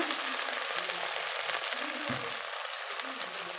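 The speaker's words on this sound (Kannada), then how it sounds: "ನೋಡಿ ಚೆನ್ನಾಗಿ ಫ್ರೈ ಆಗ್ತಾಯಿದೆ ವೆಜಿಟೇಬಲ್ ಎಲ್ಲ ಇವಾಗ" Mixed vegetables for a soya pulao fry in a pan with a dense, even hiss that carries on without a break, close and moderately loud, with one soft clunk partway through.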